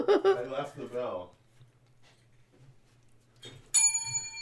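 A handheld bell gives a single bright ring near the end, following a stretch of speech and a faint low hum in a quiet room.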